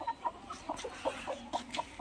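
Desi village hen clucking near newly hatched peafowl chicks set under her, a series of short repeated clucks and soft calls at close range with no speech.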